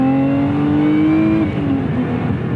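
A 2024 Lotus Emira revs hard with its Milltek exhaust partially open, the engine note climbing steadily before dropping off and settling back, loud and close with no talking.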